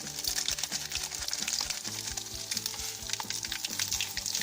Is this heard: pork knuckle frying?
yes